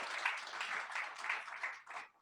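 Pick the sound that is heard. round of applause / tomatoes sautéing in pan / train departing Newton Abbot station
round of applause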